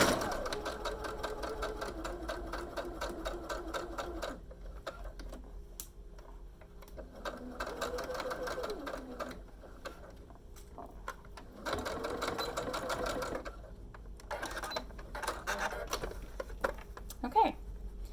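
A sewing machine back stitches the edge of a fabric face mask, running in several close, rhythmic bursts with pauses and small clicks between them.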